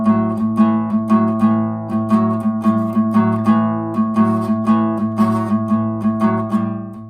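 An acoustic guitar plays a boogie woogie rock and roll rhythm, a steady, bouncing strum of repeated shuffle chords, loud and close, with no voice over it.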